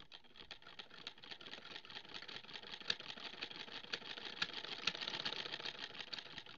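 A sewing machine stitches a straight seam with a quick, regular mechanical chatter, heard close and continuous, its rhythm picking up slightly in the latter half.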